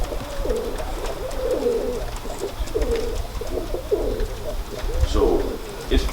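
Breeding pigeons in a loft, including several cocks, coo in repeated low, throaty phrases close by, over a steady background hum.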